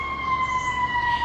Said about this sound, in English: sorry about that loud siren